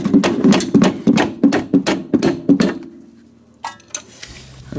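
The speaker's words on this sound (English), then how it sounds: "once you have sort of pounded that threaded rod right there at the end" Hammer pounding the threaded rod on a KW adjustable coilover on a DeLorean DMC-12, about ten sharp metallic blows in a quick rhythm, loud and close, followed by quieter clinks and handling noise.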